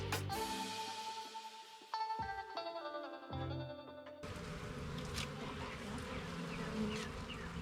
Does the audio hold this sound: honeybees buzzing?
yes